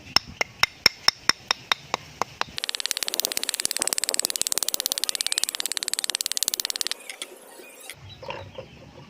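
Light hammer taps on a speedometer gearbox of a Kawasaki Barako 175 motorcycle: about a dozen sharp, evenly spaced metallic knocks, then a fast rapid rattling burst of taps, ending with a few softer handling noises.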